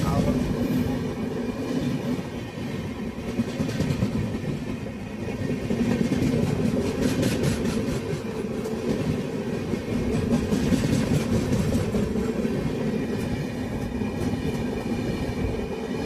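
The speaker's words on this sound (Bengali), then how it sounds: "কিন্তু ট্রেনটা খুব মারাত্মক স্পিডে বেরিয়ে যাচ্ছে, স্পিড করছে ফারাক্কা জংশন স্টেশন" The Tejas Express from Agartala to Mumbai Central races through Farakka Junction station at high speed, a loud, continuous roar of wheels and carriages rushing past close by.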